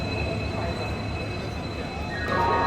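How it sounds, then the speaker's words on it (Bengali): A train with its engine rumbles steadily into a station in India with low mechanical drone and a rising metallic squeal near the end, no talk. "আর দেখতে পাচ্ছ যে অবশ্যই ধীরে ধীরে ট্রেনটা ঢুকছে"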